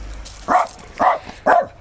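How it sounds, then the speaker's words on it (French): Three dogs bark in short, loud, close bursts, three evenly spaced barks in under two seconds. "Voilà mes chiens, mes 3 chiens, ceux que vous entendez."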